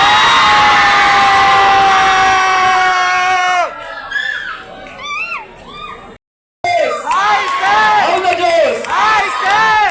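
A large audience of students at a seminar shouting and screaming together loudly and continuously, close and overwhelming, with a brief cutout of silence before the roaring crowd resumes.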